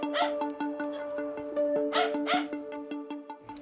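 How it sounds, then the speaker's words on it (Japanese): Many dogs crowded into a small house, with a steady stream of high yips, barks and whimpers overlapping at close range. "テーブルの上、さらにはその下にも多くの犬が集まっています"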